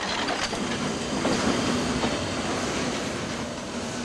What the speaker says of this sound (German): Die Nilgiri Mountain Railway ist die einzige Zahnradbahn in Indien.